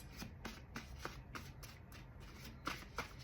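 Tarot cards being shuffled by hand, a quick series of crisp riffling bursts in a regular rhythm, close and fairly quiet with no speech.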